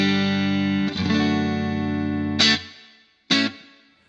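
Electric guitar chords strummed through a Vox VT20X Valvetronix modelling amp in yellow mode, less bright, a long sustained chord followed by two sharp strums, each trailing off into a noticeably lengthy reverb.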